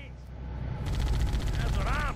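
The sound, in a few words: tank cannon and machine gun fire in Halo: Combat Evolved video game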